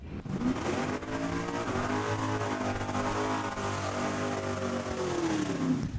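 Drag racing car doing a burnout in the burnout box at Saskatchewan International Raceway, Saskatoon: a loud, sustained engine roar with steady high revs throughout, close and continuous with no talk.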